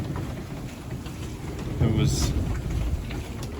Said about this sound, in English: we noticed the winds getting heavier by the minute and the sea more confused in all directions.